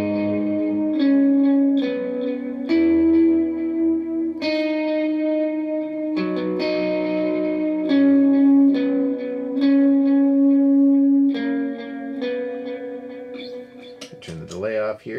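An electric guitar plays a simple lead riff for a worship song through chorus and reverb effects. Sustained, ringing notes follow one another in a slow, clear melody, close and alone, ending with a brief rattle.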